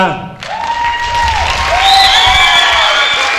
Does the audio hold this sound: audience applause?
yes